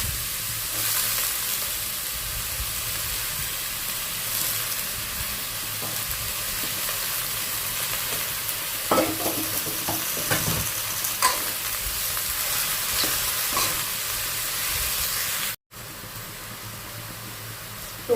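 Straw mushrooms and napa cabbage stir-fried in a hot pan, a steady hissing sizzle with occasional scraping of the spatula, interrupted by a brief cut near the end.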